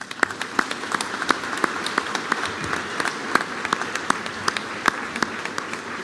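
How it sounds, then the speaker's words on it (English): A graduation ceremony audience applauds the faculty with dense, steady clapping that holds evenly throughout, with a few sharper individual claps standing out near the front. "Join me in thanking them with a round of applause"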